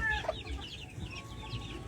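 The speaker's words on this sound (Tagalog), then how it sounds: "Ayan naman yung aming mga sisiw." Chickens cluck and chicks peep in short, high chirps close by, a busy little flurry of calls.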